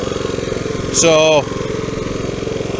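A Honda HRB 535 lawn mower engine runs with its blades spinning, a loud, close, steady throbbing drone. Someone briefly speaks over it.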